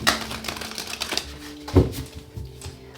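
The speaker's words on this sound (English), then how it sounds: "How about 2 more shuffles?" Tarot deck being shuffled by hand, a steady run of papery riffling clicks and flutters close by, ending in one sharper thump as the cards are squared together, with no voices.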